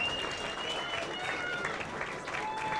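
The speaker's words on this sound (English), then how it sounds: "Let's give both these gentlemen a good round of applause" A crowd at a live boxing event in Monroeville Mall applauds both boxers after a round, with steady, dense clapping throughout and voices mixed in.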